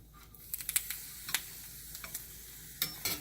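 Marinated mushrooms sizzling in a pan as they get a final flip for a vegan cheese steak: a soft, steady fry hiss punctuated by sharp clicks and taps of the utensil against the pan.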